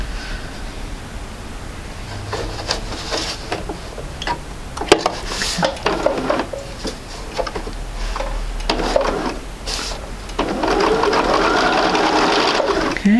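A sewing machine stitches quilt block seams in quick bursts of rapid mechanical whirring, stopping and starting between short runs with faint handling clicks, close and steady.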